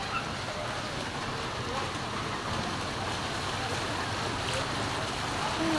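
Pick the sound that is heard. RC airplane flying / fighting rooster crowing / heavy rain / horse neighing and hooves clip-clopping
heavy rain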